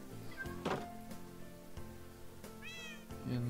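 Cats meow in a farming video game, a couple of short meows spaced apart over quiet background music and a soft thunk.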